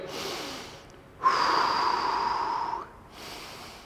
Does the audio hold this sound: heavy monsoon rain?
no